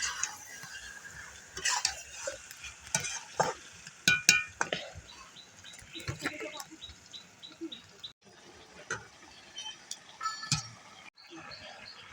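Meat braising for kosha is stirred in a pot, with clinking utensil taps and scrapes against the metal over a faint sizzle, while a voice talks intermittently and a bird chirps lightly in the background.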